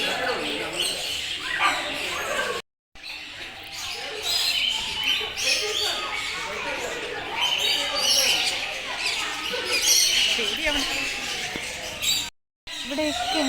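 Many birds calling together in a bird park, a dense and continuous mix of chirps and chatter that fills the whole stretch, with people talking in the background and two brief dropouts.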